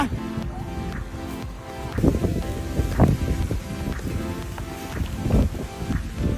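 Strong outdoor wind buffets and rumbles continuously with gusts surging and easing, booming against the microphone ahead of a thunderstorm.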